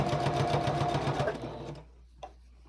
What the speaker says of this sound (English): You're going to go a few stitches in before you start again.